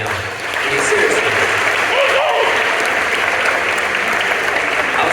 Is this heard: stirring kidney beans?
no